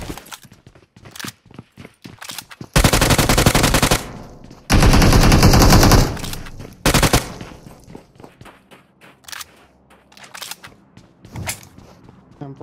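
M4 rifle fire in the BGMI mobile battle royale game, with two long sustained automatic bursts, a shorter burst and scattered single shots, loud and close amid footsteps and game noise.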